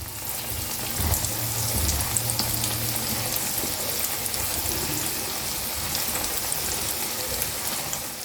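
Biuli dal puli, Bengali fried lentil dumplings, frying in hot oil, giving a steady close crackling sizzle with a low rumbling hum in the first few seconds and no talk.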